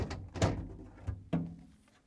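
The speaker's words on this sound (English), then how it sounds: "To remove the old crisper drawer, we need to pull it out, then lift it up and remove it." A plastic crisper drawer in a GE refrigerator slides out and is lifted free, giving a few close scraping thunks and knocks with a short rattle, no talk.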